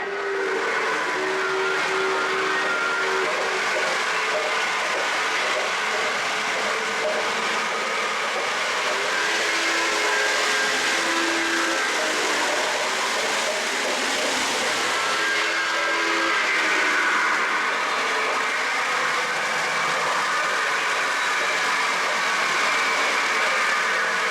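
A model train's steady rumble with hissing and a whistle-like tone runs continuously, close and fairly loud, with no talking.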